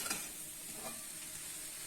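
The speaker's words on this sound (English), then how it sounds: "Now I'm going to use some coriander, fresh coriander. And give it a mix." Fresh coriander being stirred into a paratha mixture in a pan, with a soft scraping stir and faint sizzle that stays quiet and steady through the short moment.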